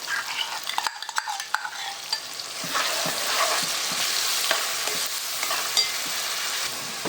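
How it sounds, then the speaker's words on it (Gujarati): Chicken curry with masala sizzles in a pan while a spoon stirs and scrapes through it, giving a continuous, close frying hiss broken by small clinks and scrapes, with no voices. "બધાને મિક્સ કરીને પાકવા દેવાનું છે થોડીક વાર."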